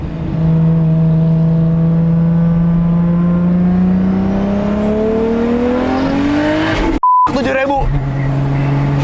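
A Toyota Supra MK4 pulls hard through the gears, its engine note rising steadily and loudly from inside the cabin before a sharp cut and a hissing blow-off valve release, then the engine settling lower; people talk over it.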